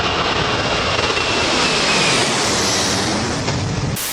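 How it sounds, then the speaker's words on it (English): Aeroplane taking off, a loud, continuous roaring jet-like rush that holds steady throughout before cutting off abruptly. "insert aeroplane taking off sound clip"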